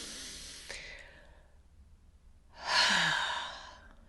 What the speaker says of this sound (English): deep breath in through the nose